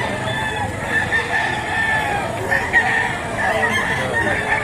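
Roosters crow repeatedly amid clucking chickens at a livestock market in Batangas, Philippines, a busy chorus of fowl with voices murmuring in the background.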